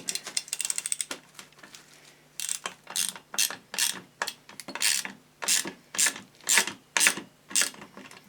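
A ratchet tightens a small nut, starting with a few faint clicks and then settling into a close, loud run of evenly spaced ratcheting strokes, each a burst of rapid clicks.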